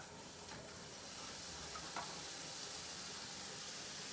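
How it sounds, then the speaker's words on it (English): Steady sizzling hiss of seasoned burger patties frying in a snug frying pan, constant and close, with no talking. "Right, patties, they've been seasoned. They're going in the pan."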